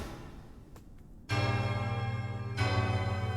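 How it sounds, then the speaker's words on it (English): A bell rings in the video game Hollow Knight: Silksong, a sudden bright metallic strike with a long sustained ringing tone, struck a second time and sounding louder, following quieter ambient game sounds. "Oh wait, no, I rang 2 bells."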